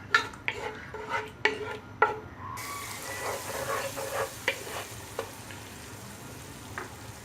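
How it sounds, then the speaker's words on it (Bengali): Spices with tomato sauce for a prawn pulao fry and are stirred in a pan, with a run of sharp scraping strokes early on, then a steady soft sizzle with occasional clicks of the spoon; no talking. "এখন এই মশলাগুলোকে খুব ভালো করে কষিয়ে নেব।"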